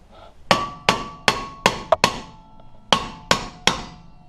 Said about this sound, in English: I'll just take a hammer and hit it right here in between the lug